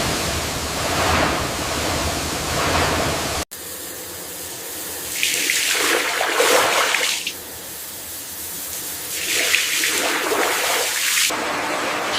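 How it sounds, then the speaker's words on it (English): Banana tree fibres are washed in boiling water, a loud broad rush of gushing and splashing water that breaks off abruptly and returns in surging waves, with no voices. "the banana tree fibers are being washed in boiling water"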